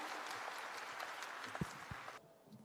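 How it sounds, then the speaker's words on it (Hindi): Steady applause from a crowd, continuous clapping that fades and cuts off near the end. "तो एक बारी फिर से जोरदार तालियों के साथ में हम इनका हौसला बढ़ाते हैं."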